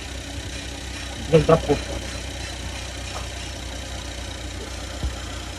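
A freshly washed surplus mini van engine idles with a steady low hum; someone speaks briefly over it, followed by a faint knock.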